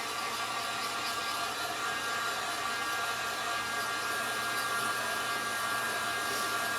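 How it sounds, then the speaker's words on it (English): Heat gun blowing hot air to dry a 3-D snowman porch leaner craft project, a continuous loud steady whoosh of fan noise held at constant level throughout with no talking. "I'm going to dry it off real quick with my heat gun"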